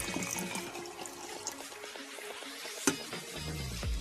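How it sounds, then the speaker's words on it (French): Water pours into a painted glass jar being filled for a homemade snow globe, a continuous splashing, gurgling stream close by with a brief clink partway through. "Et je viens donc mettre de l'eau à l'intérieur."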